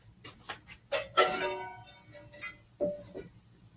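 An old metal pan is handled while cooking, giving a series of sharp, irregular clinks and taps at close range, separated by brief quiet gaps.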